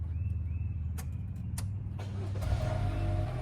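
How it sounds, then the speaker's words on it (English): A RAV's engine is started, a faint low idle hum building slightly after a few clicks and brief whirs, heard from inside the vehicle with no talking. "I'm gonna go ahead and turn the key, or turn the car on."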